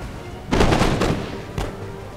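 A musket volley in the Empire Total War strategy game, heard as a loud rumbling burst of massed gunfire followed by a second smaller report, over a steady battlefield ambience.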